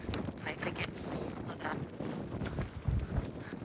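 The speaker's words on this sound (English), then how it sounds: "It's really windy." Strong wind blows across an Appalachian Trail hiking path, a steady, loud roar buffeting the microphone with rising and falling gusts and a few low thumps.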